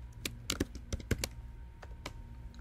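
Fingers typing on a computer keyboard, a short run of crisp, close key clicks in an uneven rhythm over a quiet room hum.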